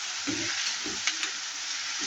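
Onions and tomatoes sautéing in a pan for masala dosa filling give a loud, continuous sizzle up close, with a few soft scraping stirs of a spoon repeating through it.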